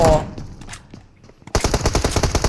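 Automatic rifle fire in the PUBG Mobile video game, likely an M4. A loud shot opens, a few faint distant pops follow, then a close, sustained rapid burst of gunfire fills the final second.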